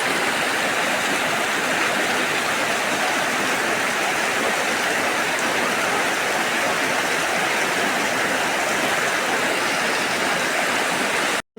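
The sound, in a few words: rainwater flowing strongly in a courtyard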